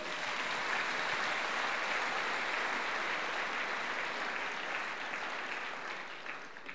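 Children cheering and applauding in a church, a sustained dense wash of clapping and shouts that stays steady and fills the room before tapering slightly at the end.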